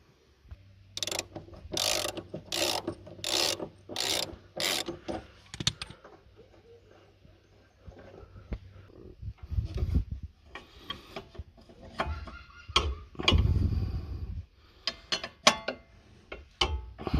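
Ratchet loosening control arm bolts on a Chevrolet Lumina SS (Holden Commodore VZ): a run of five or six sharp, evenly spaced clicking bursts up close, then slower irregular ratchet clicks and clunks of tools on metal, with no talking.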